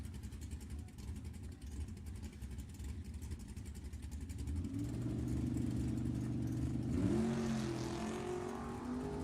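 At a nostalgia drag race, a 1966 Mustang and a big-block Chevrolet sit idling, then rev up and accelerate hard. The engine roar swells and climbs in pitch and stays loud through the end.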